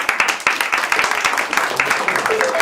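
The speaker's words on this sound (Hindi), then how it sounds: "तालियां बजाइए" Applause from a small group, dense irregular clapping running steadily for the whole stretch at moderate loudness, with faint voices mixed underneath.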